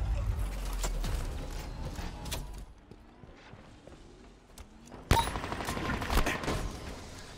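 Needler fire in the Halo Infinite video game: a rattling run of rapid shots, then a quieter stretch with faint clicks, and a sudden loud burst and crackle near the end.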